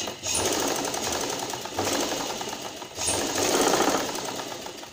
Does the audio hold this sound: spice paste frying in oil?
no